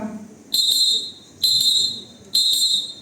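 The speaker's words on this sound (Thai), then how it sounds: "ต่อไปเป็นสัญญาณนกหวีเสียงสั้นเป็นชุด" Three bursts of short, shrill traffic whistle signals, each a quick cluster of toots, evenly spaced and loud, with no talking.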